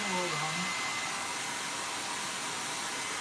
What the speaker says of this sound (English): So this is why a hairdryer is ideal for this sort of thing,